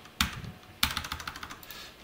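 Computer keyboard keys are pressed while coding a JSP message board, first two distinct taps and then a quick run of lighter clicks, close and clear with no talking.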